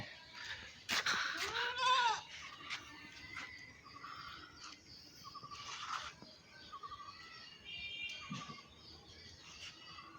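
Goats on a small farm bleat repeatedly, with one loud wavering call near the start and several fainter, higher bleats following amid light background noise; no talking.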